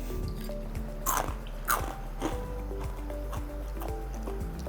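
Crisp fried rice kurkure snack bitten and chewed close up, several sharp crunches in an irregular rhythm, fairly quiet with no talking.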